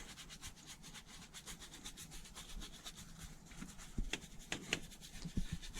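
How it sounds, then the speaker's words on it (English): A brush scrubs and agitates the leather interior of an Audi 5000 CS Turbo, giving a soft, close rhythmic scrubbing with repeated strokes and a few sharper scuffs toward the end. "agitate all of the leather, all of the surfaces."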